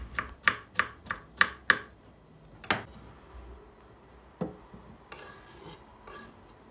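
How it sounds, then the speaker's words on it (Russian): A knife finely chops mushroom caps and stems on a cutting board in a quick run of sharp knocks, then a few scattered cuts and scraping follow, close by. "Теперь грибную мякоть и ножки мелко нарезаем."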